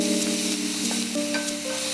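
Onion and coconut paste frying in a pan on low flame while prawn roast is being made, giving a steady close sizzle with faint stirring scrapes throughout, no voices.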